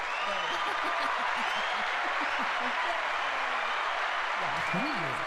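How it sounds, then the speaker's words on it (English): A canned applause effect from a clap button plays as a dense, continuous wash of clapping throughout, with people talking over it. "now we need the real clap button"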